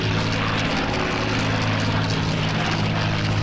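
A propeller fighter plane flies in Combat Wings: Battle of Britain, its engine a steady, loud droning hum that holds without break.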